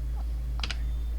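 A quick burst of two or three crisp keystrokes on a computer keyboard, close and distinct over a steady low hum.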